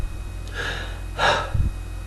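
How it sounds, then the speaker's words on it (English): Unregulated breathing through the nose, uncontrolled pranayama: two quick, uneven breaths rush in close and audible, followed by a short snort-like puff. "unregulated breath would be like"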